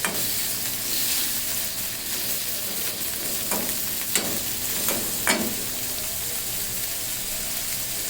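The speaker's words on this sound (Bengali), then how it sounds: "বেশিক্ষণ না দু তিন মিনিট নেড়ে চেড়ে একটু ভেজে নিব" Small shrimp stir-fry in a pan for a curry of okra and potato, a steady close sizzle with a few scraping stirs of the spatula and no talk.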